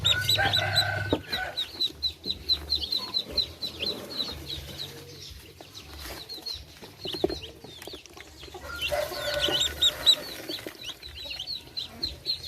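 Ducklings fed small pig-feed pellets peep and chirp, a busy chorus of many thin, high calls that stays fairly faint, with occasional low clucking and rustling. No voices are heard.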